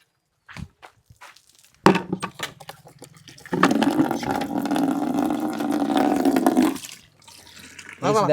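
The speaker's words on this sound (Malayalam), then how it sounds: "നിരഞ്ജൻ അവിടുന്ന് വെള്ളം പാരി ഒഴിക്കുകയാണ്" Water pours and splashes in a continuous rush for several seconds, preceded by scattered knocks and footsteps and trailing off near the end.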